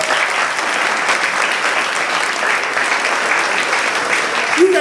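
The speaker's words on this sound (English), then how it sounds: "Give them all another big round of applause" An audience at a comedy hypnotist show on New Year's Eve in State College, PA, gives a big round of applause, with sustained, dense clapping throughout at a steady, fairly loud level.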